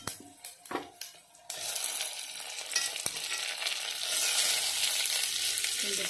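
Chopped tomatoes go into a pan of frying onion and garlic for sama kizhangu kulambu. A few clattering knocks come first, then a loud, continuous sizzle swells and stays steady up close.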